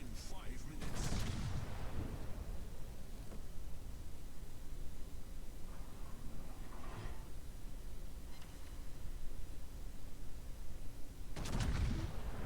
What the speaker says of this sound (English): Nice salvo of 3 hits